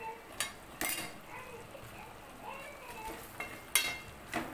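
Onion and capsicum being stirred in a frying pan, with a utensil clinking and scraping against the pan in a few sharp knocks over a soft background sizzle.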